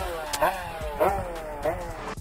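A Beta X Trainer dirt bike's engine revs up in three repeated rising bursts, close and fairly loud, as it pulls away on Pacific Northwest single track.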